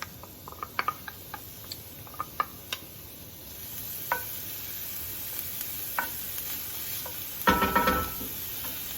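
Chopped onion sizzles in olive oil in a hot skillet, a steady low crackle with scattered clicks and stirring scrapes and a louder burst of frying near the end, no voices.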